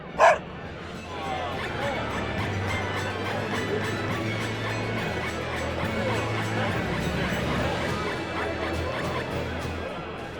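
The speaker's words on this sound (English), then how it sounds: "That is one astute doggy." A dog barking in the video game Tales of Berseria, one sharp bark at the start followed by faint yips under game music and ambient sound.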